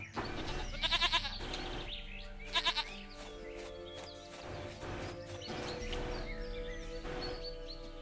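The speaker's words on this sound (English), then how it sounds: "Goat of mine, dearest, sweetest goat." A goat in the video game Witcher 3 bleats in short bursts, heard twice against a busy game soundscape of music and ambient tones.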